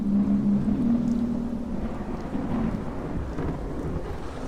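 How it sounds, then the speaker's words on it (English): A thunderstorm in the horror video game Leviathan, set on the Scottish coast, rumbles with dense low thunder and rain, accompanied by a sustained low droning tone, loud and continuous throughout. "In all my days, I've never seen a storm quite like this."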